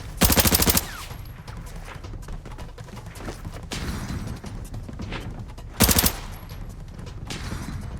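Bursts of automatic gunfire in the shooter game Arena Breakout, with two loud rapid volleys near the start and again near the end, separated by quieter game ambience.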